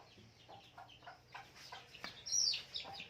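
Chickens cluck in short scattered bursts close by, with one sharper squawk near the end, fairly quiet overall.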